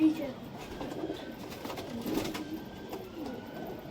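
A desi high-flyer pigeon coos softly at a pigeon sale in Nabadwip, faint low murmurs under a quiet, noisy background with hints of distant voices.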